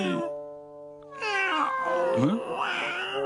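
A cat meows in drawn-out, wavering cries, close and fairly loud, with a sustained tonal note before it.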